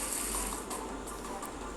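Water poured or splashed in a Hindi-commentated puzzle game, a short steady wash of liquid noise like a running tap, moderately quiet and continuous with no break.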